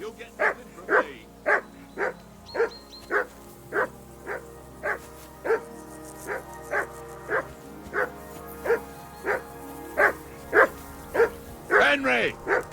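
Dog barking in the medieval game Kingdom Come: Deliverance II, a steady run of about twenty evenly spaced, moderately close barks, ending with a few quicker yelps.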